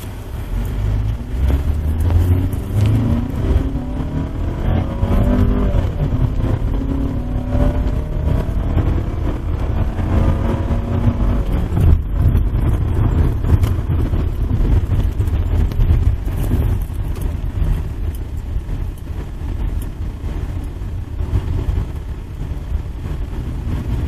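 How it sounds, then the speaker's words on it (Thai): A car that has been converted to run on LPG gas is out on a test drive. Steady road and engine rumble mixes with wind buffeting the microphone, and the sound shifts gently as the car accelerates. No one speaks. "เดี๋ยวเราจะมาลองวิ่งทดสอบกันดูนะครับ"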